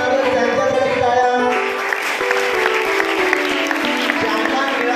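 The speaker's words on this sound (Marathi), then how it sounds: "ज्यांना ट्रॉफी बक्षीस मिळालं त्यांच्यासाठी टाळ्या." Audience applause for trophy winners at a high school elocution competition prize ceremony: a dense, steady wash of clapping that fills the whole stretch, blended with sustained tonal sound, likely music or voices.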